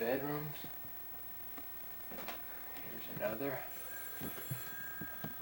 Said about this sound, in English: That's our phone ringing.